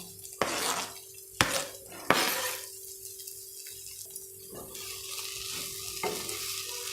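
Omelette noodles stir-fry in a hot pan, a steady sizzle running throughout, broken by three sharp spatula clanks against the metal early on and softer scraping afterward.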